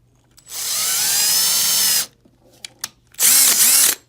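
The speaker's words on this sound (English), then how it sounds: "so I'm going to get ready and drill." A power drill bores a hole while a horizontal support grip is being built, with two loud, close bursts: a long steady whine followed by a shorter run after a brief pause, and no talking.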